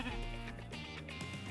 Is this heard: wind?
no